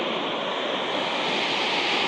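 River water rushing past a hotel in Naran, a steady broadband roar that stays constant and fairly loud throughout, with no voices over it.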